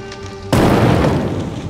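A loud, sudden explosion bursts in the dungeon-crawling video game One More Dungeon 2, a deep boom that hits sharply over a faint tonal hum and then rumbles on at high volume.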